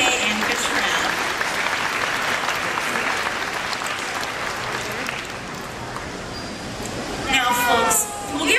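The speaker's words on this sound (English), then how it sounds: "Let's get a round of applause for TK and Redtailed." Audience at the Shedd Aquarium in Chicago applauding trainers after an animal training session, a dense, steady wash of clapping from a large crowd that carries on for several seconds, swelling slightly near the end.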